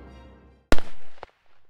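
A single sharp gunshot sound effect cracks out in a soap opera parody scene, loud and close, followed by a short ringing tail and a faint second knock.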